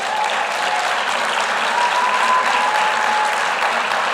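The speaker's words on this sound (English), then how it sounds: "let us show our deepest appreciation with a big round of applause to these incredible ladies" Sustained applause from a graduation ceremony crowd, dense steady clapping that holds at an even level throughout.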